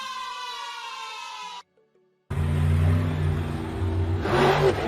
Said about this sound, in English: This is the Sparkle Smash Monster Truck.